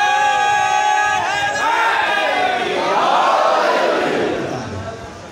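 Crowd at a Muharram majlis in a Shia mosque and imambargah in Nabi Pura loudly chanting the religious slogans Takbir and Risalat in unison, a sustained mass of voices swelling and fading over several seconds.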